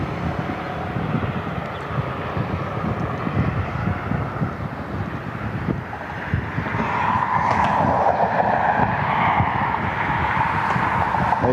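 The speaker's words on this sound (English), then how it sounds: "As we lose Shamrock behind the trees, we have Alaska 216 taxiing out" An Alaska Airlines Boeing 737 MAX 9 taxis out at Cleveland Hopkins airport, a distant steady jet engine whine and rumble that swells louder partway through, blended with outdoor wind noise.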